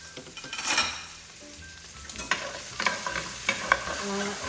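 Meat browning in a pan for pasta all'amatriciana, a steady close sizzle with a spoon scraping and clinking against the pan at intervals, no voices.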